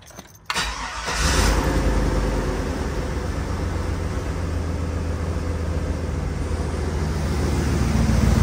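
A 2001 Chevy Tahoe engine cranks briefly and catches, then settles into a steady, close idle that holds with a slight rise in revs near the end.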